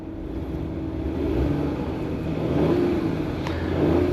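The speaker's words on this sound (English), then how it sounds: "let's go ahead and see if we can hear this turbocharged V6" The turbocharged 3.0-litre V6 of a 2021 Audi Q8 revs up twice while the SUV stands still. Each rise is a smooth swell that falls back, heard at moderate volume from inside the car.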